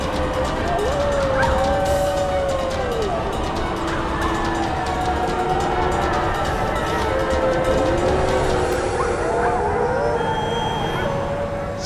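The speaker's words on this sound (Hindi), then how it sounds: "सियार के रोने की आवाज इसी दिशा से आ रही है।" Jackal howling in a Hindi TV drama scene, several long wavering howls rising and falling over a constant noisy bed, one after another across the whole stretch, fairly loud and close.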